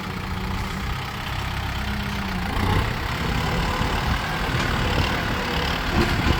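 A tractor engine runs at a steady idle-like drone, close and continuous with a low rumbling mechanical tone and no talking.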